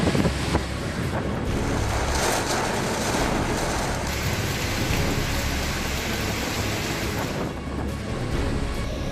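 Super Cyclone Amphan lashes Odisha with strong roaring wind and driving rain, a loud continuous rush with deep gusting swells and low rumbles, no voices.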